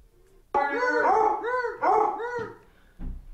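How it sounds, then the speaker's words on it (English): Dogs bark and howl at each other in a few drawn-out, wavering, howl-like yowls at close range, followed by a short low grunt. "Oh, they're barking at each other."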